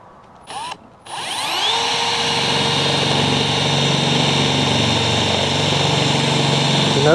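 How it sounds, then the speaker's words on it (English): A power drill briefly spins up and stops, then revs into a long, steady high whine while drilling into a table, holding loud and close until the end. "Tried to drill into our table a little."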